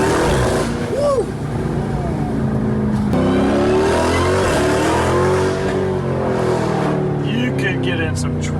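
A car engine roars and revs hard nearby, pitch swinging up and down through repeated downshifts, loud and continuous, while people inside exclaim over it.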